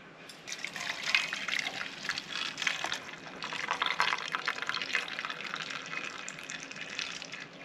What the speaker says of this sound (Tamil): இப்போ இந்த தண்ணியை வடிச்சுக்கலாங்க.